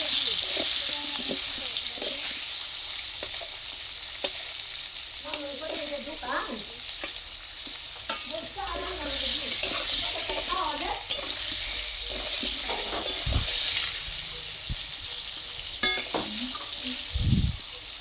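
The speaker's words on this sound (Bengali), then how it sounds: "আমি আলুটা লবণ হলুদ দিয়ে ভেজে নেব" Potato pieces frying in oil with salt and turmeric in a home kitchen, a soft continuous sizzle with occasional stirring clatters, while someone talks over it at intervals.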